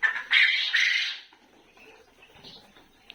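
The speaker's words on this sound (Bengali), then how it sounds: "পুরুষ পাখিগুলোর ডাকছে, আপনারা শুনতেই পাচ্ছেন" Male quails call loudly and close by in a short burst of harsh, squawking cries, then fall to quieter, sporadic chirps and rustling.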